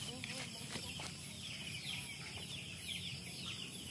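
Chickens in a backyard coop cluck and chatter continuously at close range, several birds overlapping, while a low background hum runs beneath and people talk nearby.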